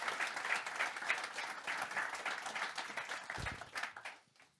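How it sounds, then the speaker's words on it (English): An audience applauds after a talk with a NASA Apollo 16 astronaut, steady clapping that holds for several seconds and then tapers off, heard from a distance at low volume. "Another big round of applause, please."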